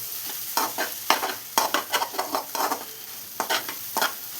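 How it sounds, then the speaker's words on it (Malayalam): Egg, onion and tomato frying in a pan are stirred with a utensil, giving repeated scraping strokes in an irregular rhythm over a soft, steady sizzle, close and alone with no talk. "ഇനി നമുക്ക് ഈ ഉള്ളിയും തക്കാളിയും എല്ലാം ഇതിൽ നന്നായി മിക്സ് ചെയ്ത് കൊടുക്കാം."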